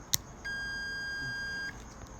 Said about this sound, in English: grab our multimeter and put it on continuity